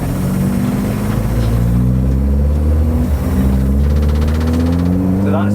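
An unfinished project car's engine revs loudly up through the gears nearby, its droning tone climbing and dropping with each shift, with a voice talking over it.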